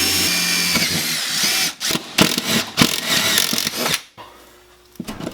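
A power drill whirs loudly and continuously up close, then stutters in short bursts as it bites through to make a hole, before stopping abruptly into quiet.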